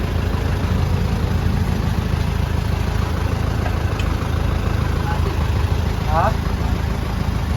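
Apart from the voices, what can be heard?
Isuzu 4JJ1 engine running at idle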